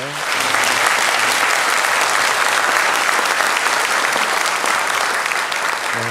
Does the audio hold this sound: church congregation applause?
yes